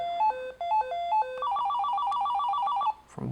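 A Motorola TLKR T60 PMR446 two-way radio ringtone plays a quick beeping melody, first in stepped tones then a rapid warbling trill, ending abruptly as a rustle follows.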